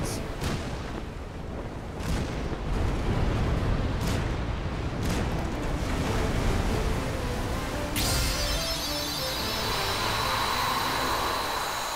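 Heavy booming ship cannon fire in Kingdom Hearts 3 on the high seas rolls in repeated thuds over a dense rumbling din, then gives way to a hissing, crackling wash.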